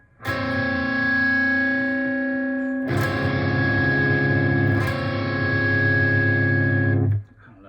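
A distorted rock electric guitar rings out a major seventh chord voiced with the low octave dropped, sustaining for several seconds, then restruck twice, and stopping abruptly.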